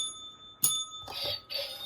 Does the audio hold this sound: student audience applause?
no